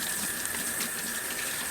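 Tap water runs steadily over a plastic cat fountain part being rinsed at a sink, a close, even hissing gush with no break.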